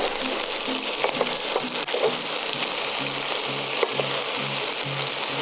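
Food sizzles and fries steadily in a pan, a loud continuous crackle while potatoes finish cooking nearby, with a soft repeating tonal pattern of background music beneath and faint clinks of stirring.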